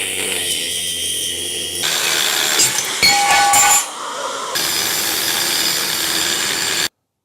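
A big angle grinder cuts out metal pieces with a loud continuous whine and grinding roar that shifts in pitch as the disc bites and eases off, stopping abruptly at the end.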